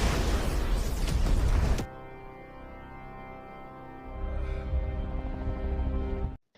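A massive blast destroys a mining facility and a destroyer in an alien robot war film, a loud, broadband roar that ends abruptly, then a low rumbling aftermath swells again before cutting out.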